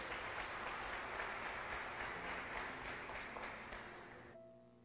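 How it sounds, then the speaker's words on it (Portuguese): A church congregation applauds in a steady, dense wash of clapping that carries on for several seconds, then thins and fades out toward the end as a faint low tone remains underneath. "Você pode aplaudir a Ele nessa noite."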